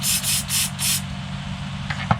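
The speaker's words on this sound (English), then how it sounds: "I'll put a bit of contact cleaner in here. Clean this plug out while we have the chance." Contact cleaner sprays from an aerosol can into an electrical tail light plug on a 6x6 Land Rover Perentie, four short close hissing bursts followed by faint handling noise.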